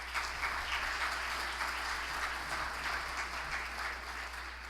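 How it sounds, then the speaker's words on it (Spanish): Applause at a Forbes business forum welcoming a speaker to the stage, heard as a dense, even wash of many hands clapping from a fairly distant audience, sustained throughout with no voices on top. "Recibamos con un fuerte aplauso al señor Fernando Capellán"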